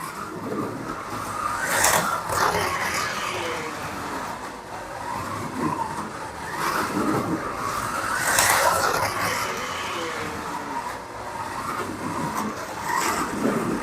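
A BRM Datsun 240Z slot car whirs around a track in repeated passes, its motor whine swelling and fading as it laps close by, loud at each pass with a steady hiss between.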